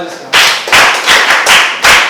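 A group claps hands together in a classroom art lesson, several loud bursts of clapping in uneven rhythm, close and clear, with no talking over it.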